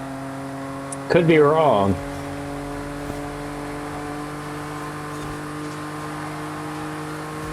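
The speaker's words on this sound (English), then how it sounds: "No way this Camry is shifting the 5th gear at 140" A Toyota Camry engine in the racing game Forza Horizon 5 holds a steady, droning hum at high speed, with a brief spoken remark cutting in early on.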